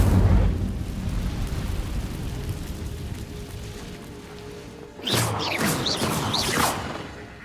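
A fire spell cast in Hogwarts Legacy, a sudden roaring whoosh and crackling burst after a long stretch of low ambient rumble, loud and close with flickering flame-like sizzles over about two seconds.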